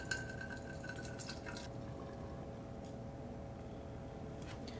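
The contents of a can are poured into a sanitized vessel such as an Erlenmeyer flask or growler. The liquid trickles and drips faintly and steadily against a low background hum, with a few soft splashes.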